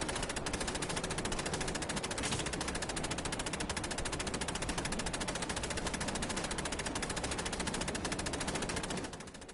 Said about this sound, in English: Not a very good machine gun, I will say, because he's just firing at nothing.